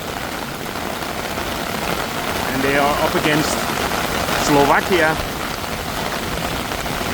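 Steady monsoon rain pours down at night on a Bangkok street, a constant hiss of drops on hard surfaces throughout, with someone talking over it in the middle.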